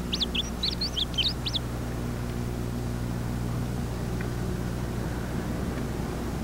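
A male songbird with its tail arched does a buzz-and-quiver flight display over a speaker set between two trees, giving a quick burst of sharp, high chirps for a second and a half before a steady low hum of background noise takes over.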